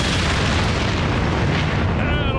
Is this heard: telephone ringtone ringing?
no